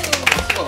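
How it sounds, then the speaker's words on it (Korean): A few people clapping briefly in a small studio group during the making of BT21 character stickers, quick uneven claps with light chatter and excited voices around them. "박수."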